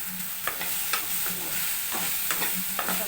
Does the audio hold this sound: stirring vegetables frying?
yes